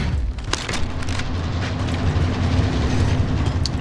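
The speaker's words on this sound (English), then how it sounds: "Train right here." Train in Call of Duty Warzone rumbling past close by, a dense, loud, continuous rolling roar with clanking rail noise and a few sharp hits, no speech.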